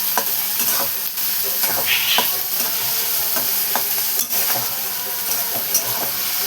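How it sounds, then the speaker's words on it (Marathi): Finely chopped onions and a tomato sauté in hot oil, a steady broadband sizzle with scattered stirring scrapes and clicks running throughout, close and fairly loud with no talking. "दोन कांदे मी असे कट करून घेतलेले बारीक चिरून घेतलेले आणि ते असे तेलामध्ये मी टाकलेले आहेत"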